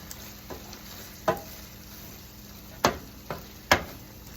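Pasta with potato and peas, with a touch of nduja, is stirred in a pan in a Sicilian-style home kitchen. A low sizzle runs throughout, broken by several sharp spoon scrapes and clacks.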